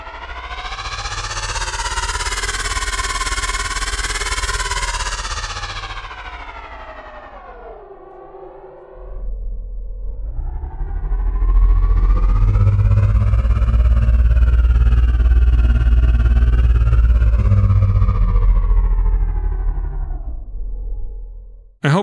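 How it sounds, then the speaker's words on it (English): A synthesized spaceship engine built from granular synthesis in Unreal Metasounds swells into a loud, wavering siren-like drone, dips briefly near the midpoint, then returns deeper and heavier before cutting off. "here are a few other examples for the exact same engine settings, but with a different wave asset as the base for granular synthesis"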